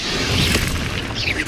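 A spell cast in the Hogwarts Legacy video game, heard as a loud booming magical burst with a crashing impact and a whooshing tail, filling a short moment of gameplay audio without talk.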